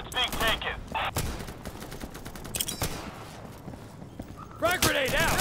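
Gunfire in the tactical shooter Insurgency: bursts of rapid automatic fire at the start and again at the end, with scattered single shots between, mixed with voices and game chatter.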